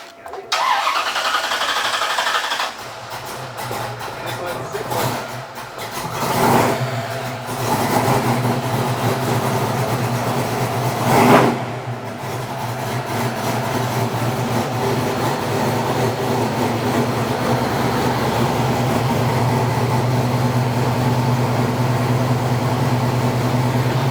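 A 1971 Camaro cranks and fires up in a garage, settling into a steady idle rumble, then a brief rev as it backs out slowly, engine droning close and continuous.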